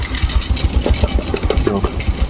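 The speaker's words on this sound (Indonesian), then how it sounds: "Kalau untuk Supra X125 ini terkenal sekali di bagian boknya sangat berisik" A Honda Supra X125 carburetor motorcycle engine idles close by with a rough, rattling, uneven chugging, noisy and steady throughout.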